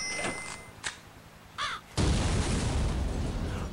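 Crow caws in the video game Gravity Bone, a few short harsh calls, then a sudden loud burst that continues as noisy rumble.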